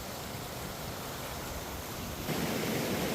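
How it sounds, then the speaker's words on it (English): Rushing river water at a crossing on the Havasupai trail near Beaver Falls, a broad, steady, close wash of flowing water that swells slightly louder partway through, with no voices. "So it's one of the really nice river crossings."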